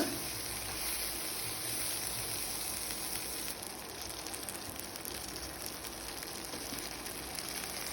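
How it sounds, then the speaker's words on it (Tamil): Onion and eggplant sauté in a pan for a Chidambaram-style kathirikai gothsu, giving a steady, even sizzle and crackle that runs throughout without a break. "வெங்காயமும் கத்திரிக்காவும் நல்லா சாஃப்டாக வெந்து வரணும் அந்தளவுக்கு நல்லா வதக்கி எடுத்துக்கலாம்"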